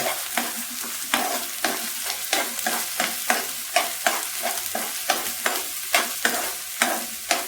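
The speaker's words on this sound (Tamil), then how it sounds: "அந்த இஞ்சி பூண்டு பேஸ்ட்டோட அந்த பச்சை வாசனை போகிற அளவுக்கு வதக்கணும்" Ginger garlic paste sautés in a pan under a busy sizzle, with a spoon scraping and stirring in quick, regular strokes, loud and close with no talking.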